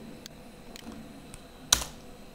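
Computer keyboard keys tapped for an Alt+Enter shortcut while coding in Android Studio: a few soft, sparse clicks followed by one sharper, louder keystroke near the end, close and quiet with no talking.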